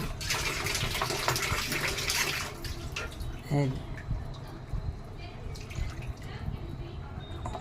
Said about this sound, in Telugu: ఇలా నీళ్ళు కలిపి పోయాలి